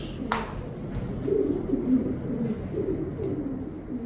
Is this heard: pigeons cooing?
yes